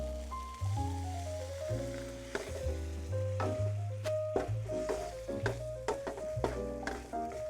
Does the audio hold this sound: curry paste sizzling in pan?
yes